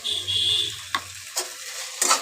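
Jute leaves frying in a pan as green chili paste goes in, a steady sizzle for about a second, then three short scraping stirs of a spatula against the pan, close and moderately loud.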